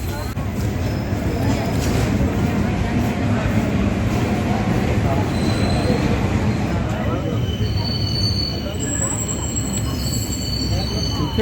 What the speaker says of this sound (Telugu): 10 మినిట్ డిలేతో చిత్తపూర్ రైల్వే స్టేషన్ నుండి డిపార్చర్ చూడండి ఫ్రెండ్స్.